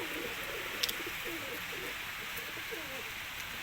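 Pigeons coo softly in low, repeated phrases against a steady hiss of falling rain, with faint speech in the background.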